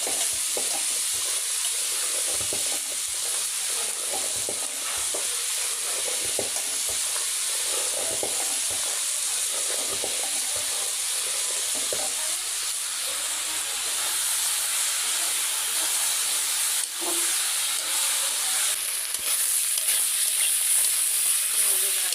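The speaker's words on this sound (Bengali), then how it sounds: "মশলা ভাজি হচ্ছে" Spices frying in a pan give off a steady, loud sizzling hiss that runs unbroken for the whole stretch, with small crackles and bubbling spits on top.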